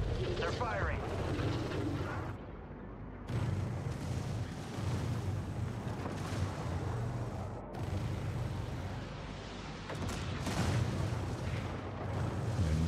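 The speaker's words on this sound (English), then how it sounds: "Tracking hostile frigate. They're firing." A hostile frigate fires its weapons in the space strategy game Homeworld 3, a dense rumble of booms and blasts rolling under voice chatter. Heavy low thuds and crackling impacts continue throughout at moderate loudness.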